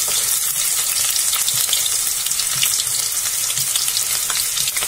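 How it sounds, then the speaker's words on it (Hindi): Chopped onions sizzle steadily in hot oil with dry red chillies, a dense continuous crackle with faint low stirring thumps, close and unbroken, no voices. "और इसे हम गोल्डन ब्राउन होने तक भून लेंगे।"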